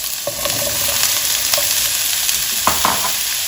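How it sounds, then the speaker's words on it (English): Chopped onions and mushrooms sautéing in a little oil, a constant close sizzle broken by a few clacks and scrapes of a spatula stirring the pan. "Just saute these till they are slightly brown."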